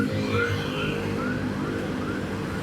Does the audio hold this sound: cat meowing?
no